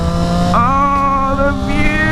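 A three-cylinder motorcycle engine rings close and loud, its pitch rising sharply into a high-revving whine and holding there before easing slightly, with an even mechanical drone throughout.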